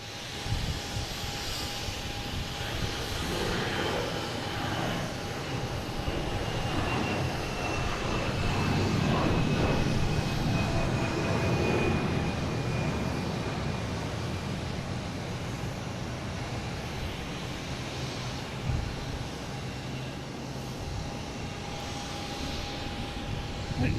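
Alaska Airlines jet backing up at Boston Logan airport, a steady, moderately loud engine whine and rumble with a faint high tone, continuous throughout with a slight swell near the middle.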